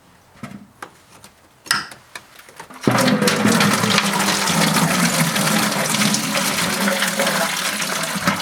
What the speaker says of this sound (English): I'm just going to disconnect the lower radiator hose right here, because we need to get the coolant out of here